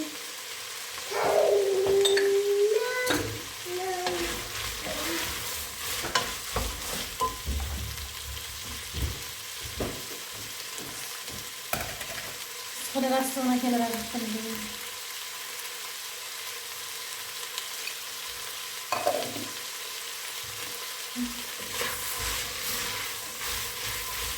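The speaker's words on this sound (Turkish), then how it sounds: "Şöyle fasulyemi 5 dakika kadar kavurdum arkadaşlar." Dried beans stir-fry in a pan for a home-style bean dish, with a steady close sizzle, scraping stirs and occasional squeaky scrapes, and no talking.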